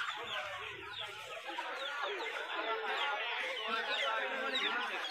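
Many chickens cluck and squawk together at a busy bird market where hens and ducks are sold, giving a dense, continuous chorus of overlapping calls, close and fairly loud, with people chattering in the background.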